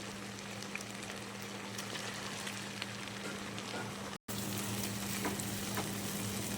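Beef karahi frying hard in oil with a ground onion masala paste, giving a steady, dense sizzle with soft crackles throughout, close and even in level, with a brief cut just past the middle.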